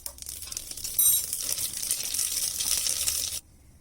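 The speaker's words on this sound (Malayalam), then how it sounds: "അപ്പോൾ ഞാൻ കുറച്ച് കടുക് ഇട്ട് പൊട്ടിക്കുകയാണ്." Mustard seeds crackle and pop in hot coconut oil inside a cooker, a dense, bright spattering that runs steadily for a few seconds and then stops abruptly.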